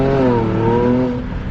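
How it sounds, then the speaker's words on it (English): A straight-piped Jaguar F-Pace S revs, a loud, close engine roar with a rising, sweeping pitch that eases slightly near the end. "Sounds like a freaking race car"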